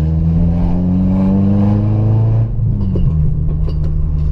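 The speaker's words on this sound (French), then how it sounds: "Échappement troué, mes amis." A car engine revving loudly through a holed exhaust, its deep drone rising and holding through the first half, then dropping off and settling into a rougher, uneven idle.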